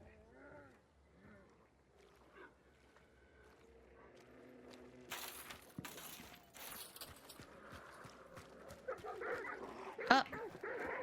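Dogs bark and whimper in a video game, heard in bursts among other game sounds and louder noise that build toward the end.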